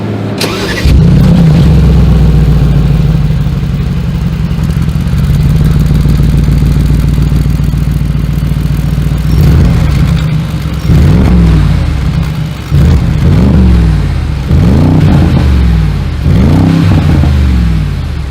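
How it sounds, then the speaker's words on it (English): A deep, rumbling 2022 Mercedes-AMG G 63 exhaust through side pipes idles steadily, then roars through a series of sharp revs that rise and fall in quick bursts near the end. "As always, here is that exhaust clip."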